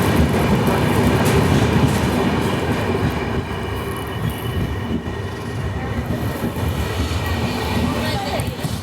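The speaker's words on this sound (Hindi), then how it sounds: "3:21 पर हमारी ट्रेन पहुंची है न्यू माल जंक्शन" The Capital Express, running from Kamakhya to Siliguri, rolls into New Mal Junction with a loud, continuous rumble of wheels on track and faint squeals, and voices talk throughout.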